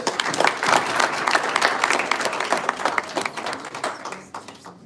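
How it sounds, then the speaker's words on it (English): An audience applauds at a live broadcast event, dense clapping from many hands holding steady, then thinning out and fading toward the end. "Let's give them a round of applause."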